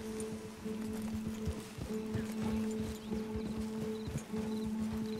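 A horse ridden in the video game Red Dead Redemption 2, its hooves beating a steady rapid rhythm over a continuous low engine-like hum, moderately loud, with no voices.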